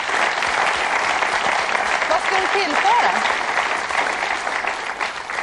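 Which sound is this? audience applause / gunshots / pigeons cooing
audience applause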